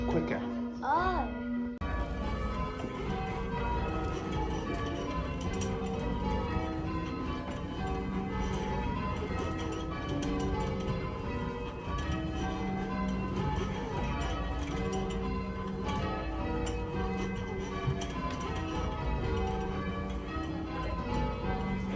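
Church bells at St Faiths Church in Kings Lynn being rung down, a dense continuous clangour of overlapping bell strikes that fills the whole clip after a brief quieter opening, loud and close throughout.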